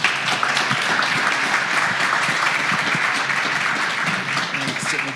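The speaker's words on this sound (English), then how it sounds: "could you please give our speakers a round of applause?" An audience applauding speakers at a workforce development panel event, a dense, continuous roll of clapping that holds steady for several seconds at close range.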